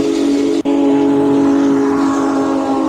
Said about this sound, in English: Timothy's ghost whistle in real life